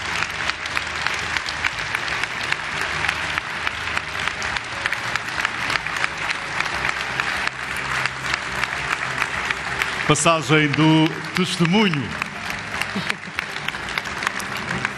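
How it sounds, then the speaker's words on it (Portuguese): Audience applause at a Città Europea del Vino 2024 handover ceremony in Acqui Terme, with the Italian wine-city delegation present: steady clapping throughout, swelling near the end, while a voice speaks over it. "Vamos pedir apenas o vosso aplauso"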